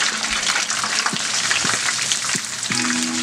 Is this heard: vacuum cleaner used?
no